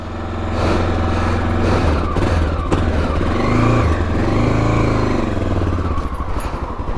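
A 1984 Honda XL600R dual sport motorcycle, a kickstarted single, idling loud and close with steady rumbling throughout, rising in a couple of revs near the middle.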